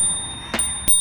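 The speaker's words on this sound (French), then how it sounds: "Une sonnette de type double retentissement." Two quick metallic rings of a double-ring bell on a Frafrees F20+ folding bicycle, the second near the end, sounding close over quiet background hiss.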